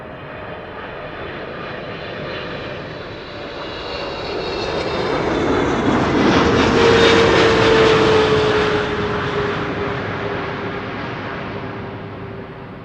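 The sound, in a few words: Boeing 777-300 jet airliner arriving at Amsterdam Schiphol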